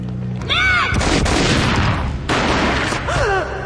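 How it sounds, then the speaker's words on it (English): Gunfire from the Max Payne mobile video game, dense booming shots in two heavy bursts, loud and close, with whistling game effects between them. "A gunshot boomed and she fell down in slow motion."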